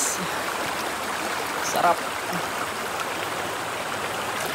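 Strong stream water rushes steadily and loudly nearby in an outdoor swimming spot, a constant broadband wash. Someone speaks briefly partway through.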